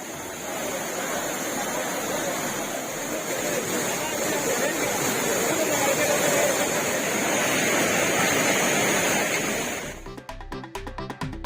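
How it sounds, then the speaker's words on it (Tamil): The Courtallam waterfall runs with heavy, increased flow, giving a dense, steady roar of rushing water throughout that cuts off abruptly near the end. "குற்றாலம் அருவியில் நீர்வரத்து அதிகரித்துள்ளது"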